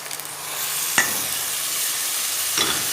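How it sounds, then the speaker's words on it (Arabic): Vegetables fry with spices in a pan, a steady close sizzle and hiss, with two brief scraping stirs of the utensil against the pan. "لازم تقلوهم بيان مع التوابل. هنا نقليه مليح."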